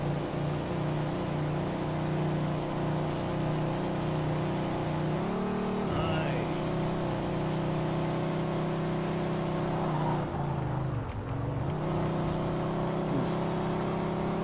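A car driven in the video game Mafia II on a rainy road, its engine revving and holding a steady drone, with pitch dips and rises as it slows and speeds up again, loud and continuous.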